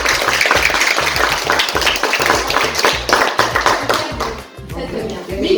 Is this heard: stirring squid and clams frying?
no